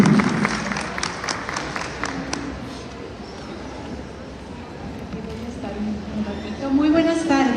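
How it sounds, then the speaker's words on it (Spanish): Audience applause at a talk on internationalization in education, welcoming a guest from the British Embassy; clapping is strongest at the start, then thins out under a busy hall as a voice begins to speak. "oberto Vélez de la Embajada del Reino Unido, para quien les pido un fuerte aplauso."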